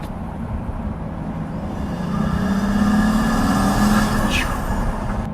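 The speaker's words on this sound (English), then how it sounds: "It's the first kind of turbocharged car that I've driven that has got deliberately tuned turbocharger noise" Turbocharged Pagani engine running under load, with a deliberately tuned turbocharger whoosh and a rising whistle near the end over a steady, loud low rumble.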